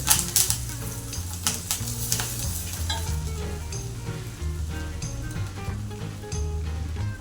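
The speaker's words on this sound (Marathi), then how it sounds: "आता याच्यात हिर हिरवी मिरची तुकडे आलं कढीपत्ता कढीपत्ताचे दहा बारा पानं अजून पुन्हा परतावून घेऊ" Green chilli pieces, ginger and a dozen curry leaves sautéing in oil for tamarind rice, a strong steady sizzle with repeated spatula scrapes and clinks against the pan.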